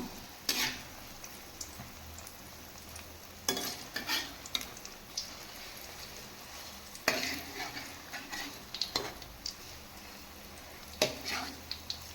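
Banana fritters frying in shallow oil while they are flipped: a continuous sizzle broken by repeated utensil clinks and scrapes against the pan, close and unhurried, with no speech.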